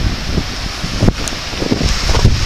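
Gusts of wind during a storm buffet the microphone in short, loud bursts over a constant outdoor rush.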